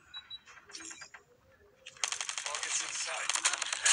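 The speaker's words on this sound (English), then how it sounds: "He's been firing for quite a while." Rapid, sustained automatic gunfire from a bot in a video game, a dense mechanical rattle that starts abruptly partway through and continues loud to the end, preceded by scattered softer game effects and clicks.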